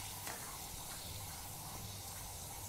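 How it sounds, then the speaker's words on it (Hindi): Til papdi sesame crisps frying in oil in a pan over a medium gas flame, a faint, steady hiss and sizzle running without a break throughout. "और अब हम गैस के फ्लेम को मीडियम कर देंगे और इसे इस तरीके से दोनों तरफ से हल्का गोल्डन होने तक फ्राई करेंगे।"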